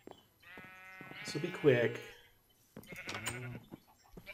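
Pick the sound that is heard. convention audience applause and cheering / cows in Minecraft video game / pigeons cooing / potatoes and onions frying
cows in Minecraft video game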